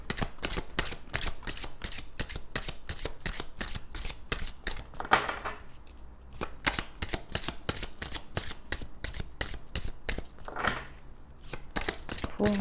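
A deck of oracle cards with feather and number designs is shuffled in a fast, continuous run of crisp riffling clicks, close up, with brief changes in texture and no voices.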